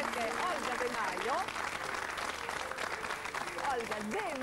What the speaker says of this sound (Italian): Olga De Maio, gli facciamo un applauso per il conoscimento, perché Olga De Maio.